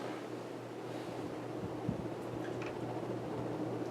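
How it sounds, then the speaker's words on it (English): Hunter R&M original ceiling fan in brown and brass running, a steady low whooshing rush of moving air with a faint hum of blade vibration, continuous and fairly quiet throughout. "it does have quite a bit of noise coming from the vibration of the blades, especially when starting up"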